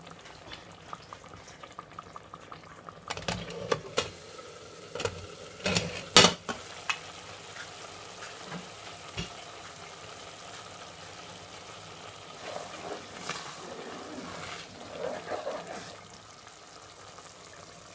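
Ayamase stew simmering in vegetable oil in a pot, a steady soft sizzle and bubbling with scattered clinks and stirring knocks, close and fairly quiet.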